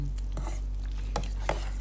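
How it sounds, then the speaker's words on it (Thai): Noodles and assorted ingredients stirred together in a pot with the heat off, making soft scraping swishes and a couple of light clinks over a steady background hum. "แล้วก็คน"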